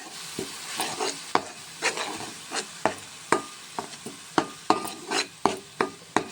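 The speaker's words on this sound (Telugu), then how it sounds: "వేసుకున్నాక బాగా కలుపుకోవాలి" Spatula stirring an onion mixture frying in oil in a pan for egg soup, a steady sizzle broken by repeated sharp scrapes and knocks at an irregular, brisk pace, close up with no talking.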